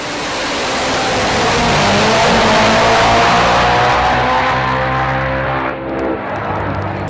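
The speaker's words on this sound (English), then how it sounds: "When the two bikes are on song beside one another, the sound is just magical." Two nitro drag racing motorbikes at a Perth strip run side by side, a loud sustained roaring wail that swells and holds for several seconds, then cuts off sharply.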